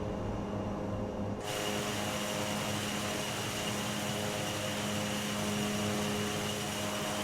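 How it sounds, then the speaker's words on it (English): ATR 42 turboprop airliner climbing in a flight simulator, a steady broad propeller-and-engine drone that swells abruptly brighter early on and then holds constant, with no speech. "Look at how well the ATR 42 is actually climbing with a payload like this."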